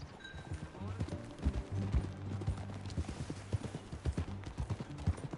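Rhythmic hoof clip-clop of a horse at a steady gait in Red Dead Redemption 2, close and fairly loud, with a low musical score underneath.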